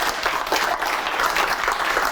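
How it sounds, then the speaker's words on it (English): Audience at a ShedFest gathering bursts into loud, continuous clapping, a thick wash of many hands with no speech on top. "can you please give Nicola a huge round of applause"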